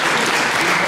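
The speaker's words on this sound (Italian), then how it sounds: "Facciamo un applauso ancora a Luca" An audience applauding a guest named Luca at an author talk, dense and even clapping from many hands for a brief moment.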